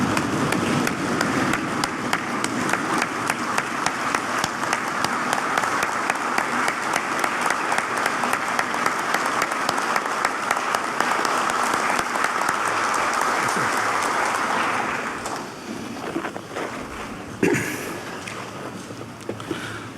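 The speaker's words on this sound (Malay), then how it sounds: "berdiri dan memberikan tepukan yang gemuruh kepada semua wira dan wirawati petugas barisan hadapan negara" Sustained, thunderous applause fills a parliament chamber as members stand, a dense crowd of clapping that holds steady before thinning into scattered claps near the end.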